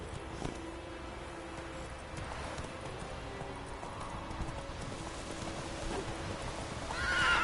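Roach, the horse in The Witcher 3, gallops with quick clip-clopping hooves under a soft game ambience, then gives a loud whinny near the end.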